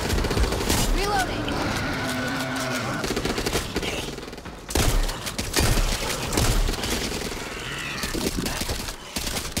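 Sustained automatic gunfire from a minigun in the Back 4 Blood co-op zombie shooter, a dense continuous roar of rapid shots with brief breaks, mixed with game effects and a talking voice throughout.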